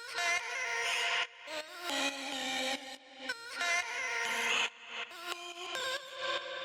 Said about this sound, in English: So the next thing we have here are these vocal chops